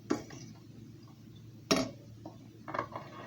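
Ground beef for sloppy joes stirred in a pan, with a utensil scraping and clinking against the pan in a few distinct knocks over a low background hiss, close by.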